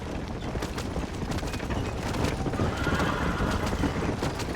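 A horse in the Red Dead Redemption video game neighs while its hooves pound in a fast continuous gallop, loud and close, with scattered game effects behind.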